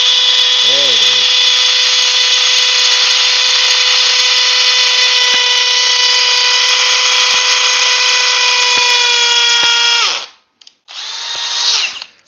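A Bosch rotary hammer drills steadily and loudly at close range for about ten seconds with a constant whine, stops, then briefly spins up again.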